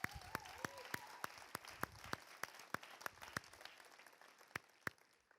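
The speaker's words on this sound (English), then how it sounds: "Let's give ourselves a round of applause." A round of applause at an all-college meeting, a small scattered crowd clapping steadily with distinct individual claps spread over a few seconds.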